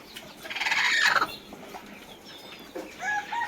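Hens on bamboo perches in a poultry shed give a loud burst of clucking up close, then scattered softer calls follow, alone without speech.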